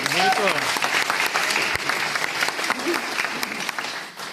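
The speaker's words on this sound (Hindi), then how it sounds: "तो एक बार ब्राइट फ्यूचर के लिए ताली होनी चाहिए, नहीं होनी चाहिए?" Applause from a seminar audience of about a hundred people at a business event in Delhi, steady crowd clapping with a few voices and cheers rising over it, continuing evenly before easing toward the end.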